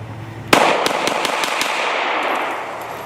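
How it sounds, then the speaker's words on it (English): A Glock 43 pistol fires a rapid string of about eight loud, sharp shots in quick succession as a magazine is emptied, the first crack strongest, with echo trailing between and after the shots. "I'm just gonna shoot this mag out as fast as I can"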